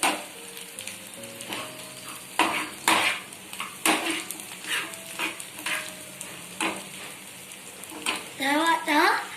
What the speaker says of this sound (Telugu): Onions, green chilli వేసేసుకున్నా. ఇప్పుడు కొంచెం ఇట్లా తిప్పుకోవాలి.